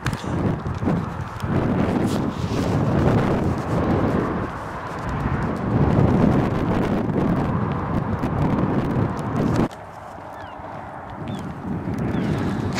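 Gusty wind buffets the microphone in heavy, uneven rushes outdoors along the Rhuddlan estuary, briefly dropping away near the end before picking up again.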